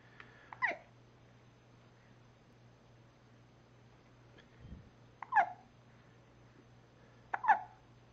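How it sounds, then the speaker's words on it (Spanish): A baby hiccuping three times, each a short sharp gulp with gaps of several seconds between, close and fairly quiet over a low steady hum. "¿Está con hipo, papá?"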